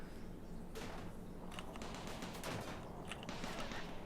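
Rapid bursts of turret gunfire in the colony video game Rimworld, crackling and hissing over a steady low background rumble. A few sharp spikes stand out, but the firing blends into a dense, continuous noise.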